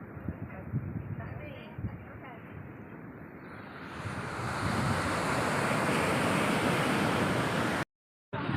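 Surf washing onto a beach in Aceh, a steady broad roar of breaking waves that swells louder midway, with wind buffeting the microphone and a brief dropout near the end.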